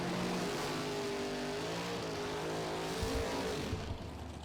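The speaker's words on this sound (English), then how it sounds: "And we're enjoying some fantastic drag racing." A drag-racing muscle car at the NMCA Muscle Car Nationals roars loud and sustained down the strip, its engine tone climbing steadily before easing off near the end.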